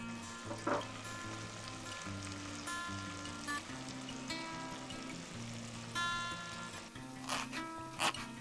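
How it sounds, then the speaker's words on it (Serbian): Beef sizzles and crackles steadily in a pot, with a few soft pops and clinks rising over the constant frying hiss. "Dok se meso prži"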